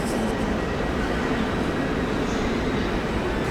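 Steady low rumble and rolling rattle inside a moving double-deck Airport Express train in Berlin, constant and fairly loud, with no voices.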